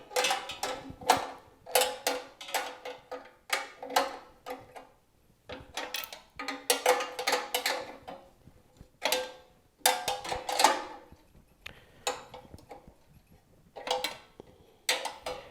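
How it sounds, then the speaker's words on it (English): A hand wrench works bolts little by little while a mini 3-inch wood chipper is assembled, giving bursts of quick metallic ratcheting clicks separated by short pauses, close and clear with no talking. "we'll do the old-fashioned wrenching, a little bit at a time"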